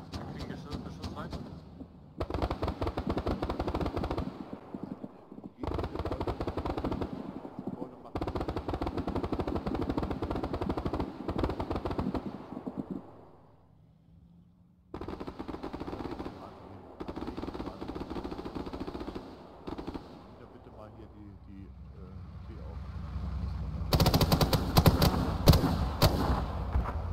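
Incoming gunfire in the military shooter game Arma 3 arrives in long, dense bursts of loud automatic fire, broken by brief pauses and a quieter stretch, with sharper cracks near the end and voices at times.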